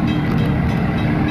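A Sydney N11 train runs steadily with a continuous low rumble and rail noise, close and loud throughout the short moment.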